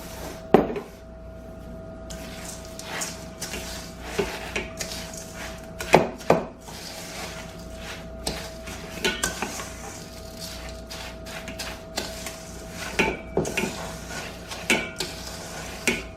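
A peanut butter mixture being mixed in a bowl for peanut butter squares: scattered close scrapes and light clinks against the bowl, irregular and moderately loud over a quiet background.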